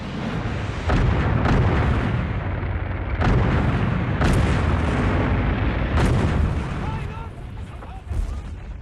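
Tank gunfire and artillery explosions from the WWII Eastern Front, with Tiger tanks facing Soviet anti-tank defences, sound as a loud, continuous barrage of booms and blasts with sharper bursts, under a narrator's voice.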